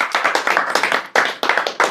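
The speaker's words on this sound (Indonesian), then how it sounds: "Tepuk tangan dong." An audience claps hands in brisk bursts at a religious lecture, close and fairly loud, with a couple of brief pauses between rounds of clapping.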